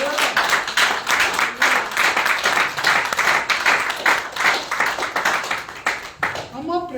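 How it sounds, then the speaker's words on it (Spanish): A church congregation claps together in a fast, steady rhythm, loud and close, with voices speaking and calling out over the clapping throughout. "Vamos a aprender a aplaudir al Señor."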